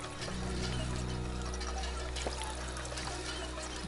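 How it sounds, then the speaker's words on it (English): Water pouring and trickling steadily from a water pump in the video game Fallout 4, a continuous splashing flow over a low background hum, with no talking. "let's go drink up at the water pump."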